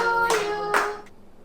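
A young boy claps his hands at a home birthday celebration: two sharp claps in quick succession, close and fairly loud, over a faint steady tonal background.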